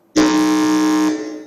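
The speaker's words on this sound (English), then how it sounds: "let's check if our buzzers are working, if they are okay" A quiz contestant's buzzer sounds once in a school quiz competition, a loud steady electronic tone held for about a second before cutting off.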